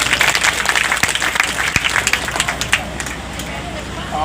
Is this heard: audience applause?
yes